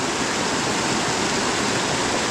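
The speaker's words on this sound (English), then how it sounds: "Name of this fall is Hardcore Cascades." Hardcore Cascades, a waterfall along the Appalachian Trail, pours with a steady, dense rushing roar, close and unbroken, with no voices over it.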